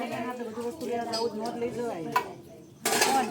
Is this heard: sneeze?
no